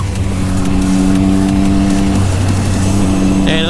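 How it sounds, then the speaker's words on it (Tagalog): A loud, steady motorcycle engine drones at cruising speed, its low rumble constant throughout with wind noise layered over it. "Motor ko lang yung maingay"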